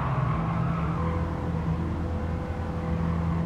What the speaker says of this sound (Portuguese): Ou é esquisito mesmo, Zé, o barulho do carro.